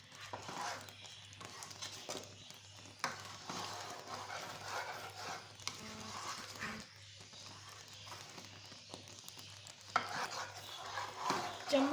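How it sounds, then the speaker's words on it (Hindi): A spoon stirs and scrapes masala frying in a pan for Lahori chikar cholay, with soft clinks and scraping strokes mixed with a faint sizzle under intermittent talk and a low background hum. "चम्मच इसमें मुसलसल चलाते रहना भूनते हुए, नीचे ना लगे।"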